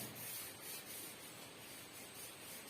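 A brush scrubs a cleaning mixture over a stained washbasin, giving a close, continuous abrasive rubbing with a gentle back-and-forth swell, heard alone.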